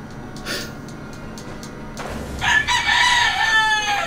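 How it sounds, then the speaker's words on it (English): A video game chicken crows loudly with a drawn-out cock-a-doodle-doo, after softer clucks and background game sounds. "the chicken is always showing up"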